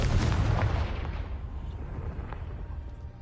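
Confringo fire spell explosion in the game Hogwarts Legacy, a loud booming blast that rumbles and fades over several seconds.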